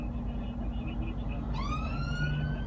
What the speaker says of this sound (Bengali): অ্যাম্বুলেন্স ও আইছে